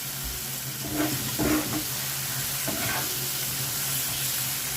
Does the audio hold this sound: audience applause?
no